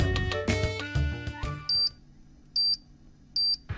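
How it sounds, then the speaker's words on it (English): Three short, high electronic beeps sound at even intervals, each a brief double chirp, following a burst of busier music-like tones. "why is the pizza beeping?"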